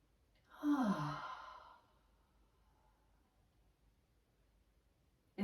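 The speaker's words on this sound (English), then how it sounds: "If you yawn, like I just did" A single long, breathy exhale with a falling tone, like a yawn, close and soft, followed by quiet.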